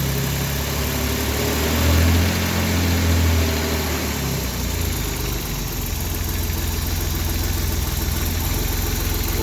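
Austin Healey 3000 engine idling after a cold start, a steady, loud, close rumble with a low thumping beat that swells briefly early on and then holds even throughout.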